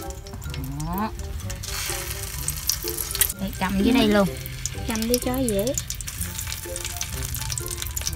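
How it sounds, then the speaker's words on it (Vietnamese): Sausages sizzle steadily in hot oil in a pan out in a rice field, a loud continuous crackle running under women chatting nearby. "Dầu sôi lắm. Có nghe cái xèo mà."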